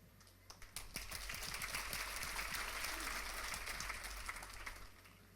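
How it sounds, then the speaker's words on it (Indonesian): A church congregation breaks into applause during a sermon, starting with a few scattered claps and swelling into steady, full clapping that fades slightly at the end. "Maksudnya tepuk tangan ini apa yang ini?"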